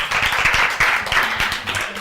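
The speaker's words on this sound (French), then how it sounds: "On l'applaudit très fort." An audience applauds a child percussionist who has just played a tam-tam, with dense, close clapping that stays steady throughout.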